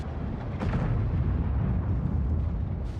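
Tank cannon firing in a tank battle video game, heard as a single deep, booming blast with a rumbling tail over continuous low engine and battlefield noise.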